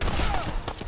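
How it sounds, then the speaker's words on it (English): Gunfire from the video game Fallout 4, set in Diamond City: a dense, continuous burst of rapid shots fills the short moment, loud and close, with a faint voice underneath. "Oh, I'm being shot up."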